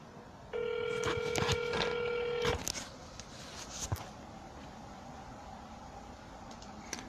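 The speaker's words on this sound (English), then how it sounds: "Here's the Vulcan 7 dialer." A Vulcan 7 auto-dialer places a phone call, producing a rapid run of DTMF dial tones over about two seconds, followed by faint line hiss and a few soft clicks.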